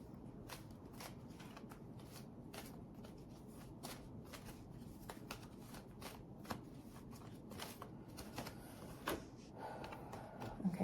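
Angel cards being shuffled by hand, a steady soft riffle of papery slides and taps, close and quiet with no talking.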